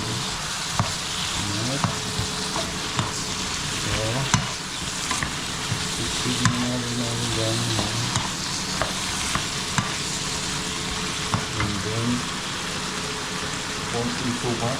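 Eggplant and ground pork frying in a pan for adobong talong, with vinegar poured in, give off a steady close sizzle broken by clanks and stirring scrapes, while a voice talks intermittently.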